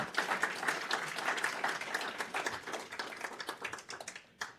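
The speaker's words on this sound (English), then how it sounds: "So let's give them a round of applause here." A meeting audience applauds in a steady burst of dense clapping that thins into scattered claps before stopping, with no talking over it.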